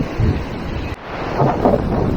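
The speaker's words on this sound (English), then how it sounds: "Don't know if you can hear much in this wind. There's a strong southeasterly." A strong southeasterly wind blows across the water during summer bass fishing with lures. It roars and buffets the microphone loudly, with a brief drop in the middle before the gusts surge back.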